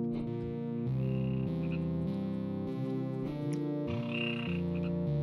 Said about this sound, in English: These soul frogs are so hard to get.